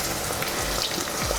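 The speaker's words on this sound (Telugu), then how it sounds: "ఇవి ఒకసారి మనం ఇట్లా ఫ్రై చేసుకుంటూ ఉండాలని, కొంచెం స్టీమ్ అవ్వాలి." Brinjals for a prawn curry frying in a pan, a steady close sizzle with faint stirring scrapes over 1.4 seconds, no voices.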